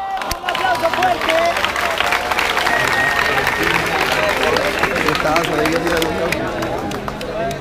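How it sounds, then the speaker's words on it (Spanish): Audience applause and cheering at a freestyle rap battle, a loud crowd clapping continuously for several seconds with mixed voices and babble underneath. "¡Un aplauso fuerte!"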